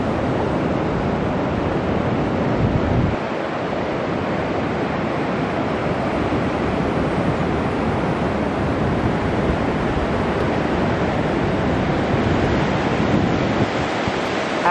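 Steady roar of surf washing onto a beach in Scarborough at sunrise, a continuous wash of breaking waves mixed with wind rumble on the microphone, no voices.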